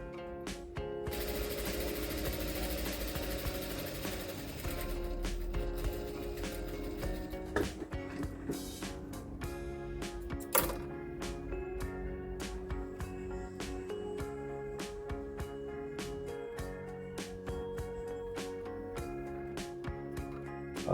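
A sewing machine stitches boxer shorts fabric with a continuous close mechanical whir and rapid needle clatter, running steadily with brief pauses and small clunks, and no talking.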